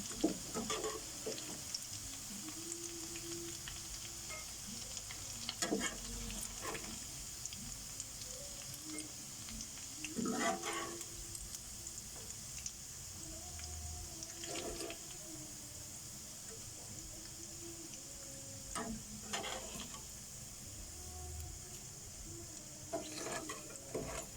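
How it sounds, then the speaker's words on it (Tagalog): Tukwa with kangkong sautéing in a pan, a low steady sizzle broken by repeated scraping stirs of the spatula at intervals, fairly quiet and close. "At ako'y magigisa na."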